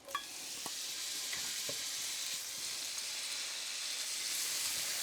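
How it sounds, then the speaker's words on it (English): Bacon sizzles in olive oil in a pan, a steady close crackling hiss throughout with a few sharp pops near the start and no talk. "I'm using some olive oil, and then I'm going to get the bacon in the pan."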